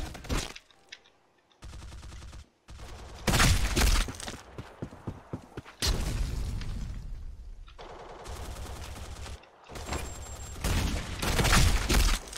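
Gunfire in the shooter game Black Squad, loud bursts of rapid automatic fire alternating with short gaps, near and forceful, with no clear talking.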